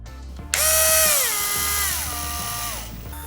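A Daedalus corrugated star coil winding machine motor whirs up quickly, its pitch sliding down and settling into a steady mechanical whine, loud and close with no talking.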